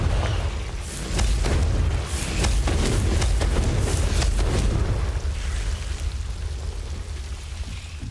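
Fire-blast spell explosions in the Hogwarts Legacy video game, a loud sustained booming rumble with crackling bursts layered over several seconds, no voices.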